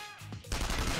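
A sudden burst of rapid, loud gunfire erupts after a quiet moment in Persona 5 Royal, sounding like automatic weapons firing.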